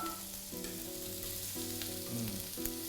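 Shrimp, such as sea or tiger prawns, grill in a hot pan with a steady, even sizzle and a few faint scrapes, and no voices are heard.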